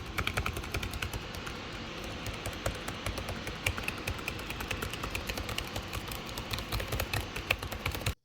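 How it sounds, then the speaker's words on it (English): Keys clattering steadily on a 2021 Dell XPS laptop keyboard, a quick, close run of light clicks and taps that continues alone for about eight seconds. "I'm going to start typing away."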